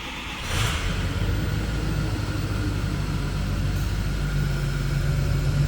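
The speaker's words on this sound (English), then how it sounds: "Let's go ahead and start it up." A 2006 Ford F-250 Super Duty with the 6.4-liter Power Stroke diesel cranks and catches, settling into a steady, deep, loud idle rumble that holds without talk.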